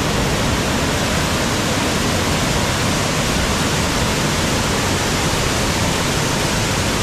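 Kil Kila waterfall in Madhya Pradesh pouring over rocks, a loud, dense, continuous roar of rushing water without a break.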